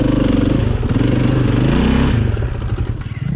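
A KTM 450 EXC enduro motorcycle engine runs loud and close, a throbbing single-cylinder drone whose pitch dips and shifts as the throttle changes.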